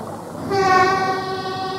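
A Shinkansen Hikari No. 1, an ivory-white and light-blue 12-car train, departs its station heading west. A loud, sustained horn blast starts about half a second in over a low rail rumble.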